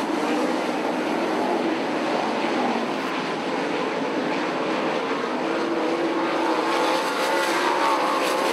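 Sprint cars at an IRA dirt oval in Oshkosh roar past in a dense, continuous engine drone, loud and steady with overlapping cars and no talk.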